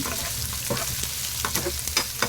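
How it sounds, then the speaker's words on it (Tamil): Onions sautéing in a pan for a mutton liver fry give a continuous close sizzle. Scattered scrapes and clicks from stirring cut through it, and no one speaks. "வெங்காயத்தை நல்லா வதக்கிக்கணுங்க"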